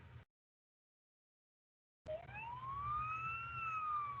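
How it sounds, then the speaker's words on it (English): After a brief silence, a fire truck siren wails up and slowly rises in pitch over a low engine rumble, heard close and steady. "the fire truck raced by outside his window with its sirens blaring"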